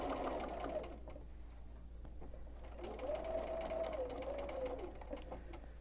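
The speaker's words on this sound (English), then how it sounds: "that's basically how I'll do the quilting on these sequential lines so that you can get a nice, even quilted look with just using your walking foot" A sewing machine with a walking foot quilts straight sequential lines on a laser cut kit pillow, two steady runs of close mechanical stitching whirring separated by a brief pause, under a faint low hum.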